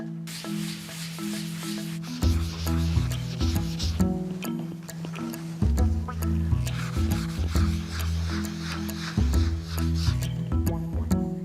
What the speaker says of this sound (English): It's just as well I like cleaning leather, because this is going to take a lot of cleaning.